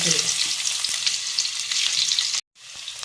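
Onions sizzle and crackle steadily in hot oil, loud and close, with a brief silence near the end before the frying resumes.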